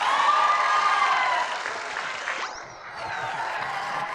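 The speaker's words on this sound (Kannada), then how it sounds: "ಹುಡುಗರ ಚಪ್ಪಾಳೆ ಹೊಡಿರೋ" A studio audience applauds on a TV comedy show, a dense wash of clapping that swells, dips briefly, then picks up again, with a whooshing effect sweeping through the middle.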